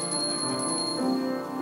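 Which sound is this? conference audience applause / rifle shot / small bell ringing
small bell ringing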